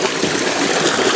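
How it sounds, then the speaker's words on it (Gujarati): Irrigation water runs steadily into a castor field, a continuous broadband rush and trickle with no pauses, close to the microphone and fairly loud throughout. "જુઓ મિત્રો, આપણે આમાં પાણી ચાલુ કરી નાખ્યું છે કમ્પ્લીટ"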